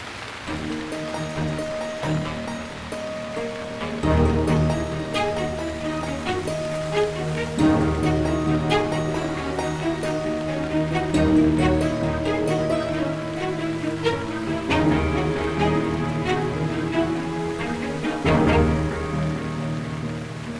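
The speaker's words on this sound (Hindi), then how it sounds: "ये बारिश भी आ गई।" Steady rain patters throughout, mixed beneath a prominent melodic background music score, with no one speaking.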